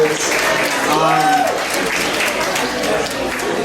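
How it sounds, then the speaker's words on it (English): A crowd at a poetry night claps and cheers in steady, loud applause that lasts the whole few seconds, with a brief whoop rising above it. "give yourself a round of applause for being here"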